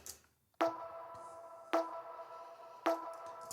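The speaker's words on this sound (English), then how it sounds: "It's actually a tonal snare." A tonal snare drum sample from an electronic production strikes three times at even intervals, each sharp crack followed by a short pitched ring that fades into near silence.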